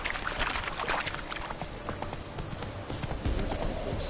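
Roach, the horse in The Witcher 3, trots with a quick steady clip-clop of hooves at close range, its rhythm continuing over the whole stretch alongside game ambience.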